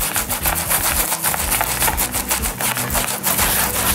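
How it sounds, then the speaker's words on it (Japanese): A dampened leather baseball glove is scrubbed with a brush, giving a steady, close, continuous rasping rub with quick repeated strokes and no talking. "ちょっと濡らした状態にして、この時にブラシを使って"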